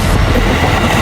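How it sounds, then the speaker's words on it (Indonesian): An Indonesian KRL electric commuter train rolls past a level crossing, giving a loud, steady, close-up rumble with rail clatter throughout and no voices. "Ini merupakan KRL yang baru saja lewat."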